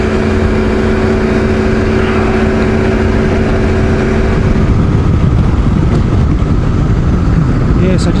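Motorcycles, including a KTM 1290, ride past with a loud, steady engine drone that swells and roughens toward the end, wind buffeting heavily over it.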